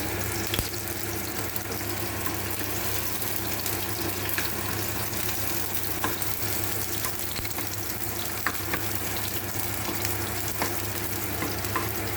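Onions frying in a pan for a rajma dish, a steady dense sizzle with crackles and occasional stirring scrapes, close and continuous throughout with no talk.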